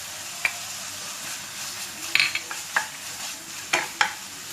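Chopped long beans are stir-fried in a pan for Chinese fried rice, giving a quiet sizzle broken by several sharp scrapes and clinks of a spatula against the pan.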